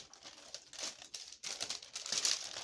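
Wax paper crinkling and rustling as a Ranchero Melt sandwich is wrapped, a close, soft, continuous crackle with brief pauses and no voices.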